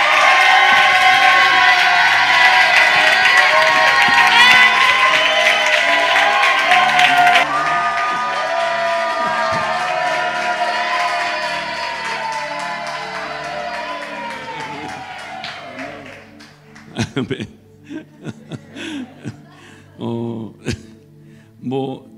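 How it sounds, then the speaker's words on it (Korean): A church conference crowd welcomes a missionary with loud applause and cheering that fill the first half, then fade gradually until a few scattered claps and voices remain near the end. "우리 존경하는 선교사님을 큰 박수로 모시겠습니다"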